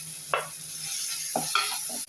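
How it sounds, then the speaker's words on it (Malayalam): Onions with crushed ginger, garlic and green chilli fry in a pan, a soft sizzle broken by a few sharp stirring scrapes and clinks over about two seconds. "ഇത് നല്ലോണം മൊരിയണം ഈ സവാള."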